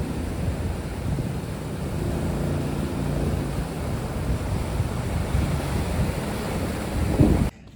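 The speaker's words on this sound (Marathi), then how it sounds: "बघू शकता मागून लाट येते आणि एकदम फास्ट मध्ये चाललोय. कसल्या मोठ्या आहेत लाटा त्या." Large sea waves rolling behind a fast-moving fishing boat at sea, a loud continuous roar of surf and rushing water mixed with wind buffeting the microphone, no speech.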